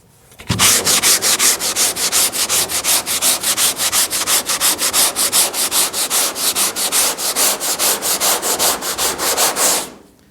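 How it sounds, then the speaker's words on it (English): An orbital sander grinding body filler on a GTO's firewall in rapid rhythmic strokes, loud and close, starting abruptly and running steadily before stopping. "then we'll come back and start sanding."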